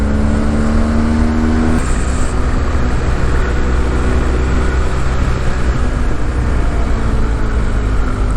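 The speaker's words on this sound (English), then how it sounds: "It's not just bikes, cars, look." A car rushes past on a road in the Black Forest, loud and close, its engine tone and tyre roar swelling and then fading as it goes by, with no talking.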